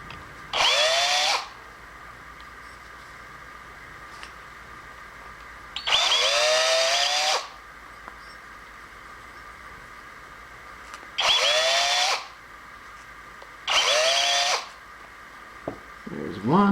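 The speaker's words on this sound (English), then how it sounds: "Just deburr these holes" A power drill deburring holes in an aluminum intake manifold, four separate high whining bursts of about one to one and a half seconds each, separated by quiet pauses, close and loud.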